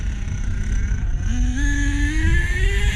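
A car engine pulls hard in second gear, its steady roar rising smoothly in pitch as it accelerates close by with no talk.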